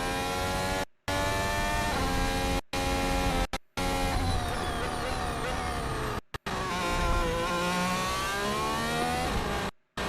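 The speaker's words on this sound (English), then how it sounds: "You can hear the engine" High-pitched Formula 1 race car engine screams continuously, pitch rising and falling with gear changes, broken by several brief dropouts.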